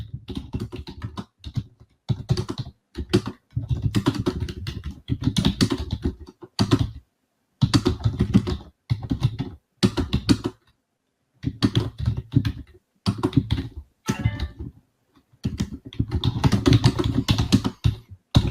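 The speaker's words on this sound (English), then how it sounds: "I'm typing this right now." Rapid typing on a computer keyboard, close and crisp, in bursts of clattering keystrokes separated by short silences, with no voices.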